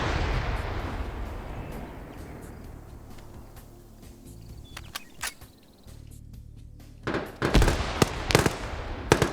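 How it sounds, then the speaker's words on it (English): Grenades explode on a compound during a PvP match between DEA and Gangsters teams in a military shooter game. A rumbling blast decays at the start, then scattered pops build to several sharp, close, loud bangs near the end. "Grenades going up on the compound."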